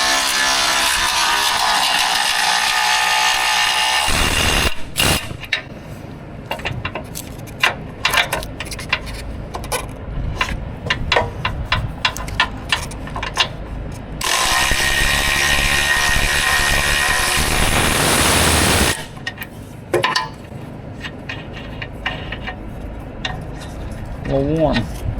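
A Milwaukee power tool, used while installing a winch and bumper on a 2023 Jeep Wrangler, whirs loudly in two sustained bursts separated by clicking and handling noises, close by.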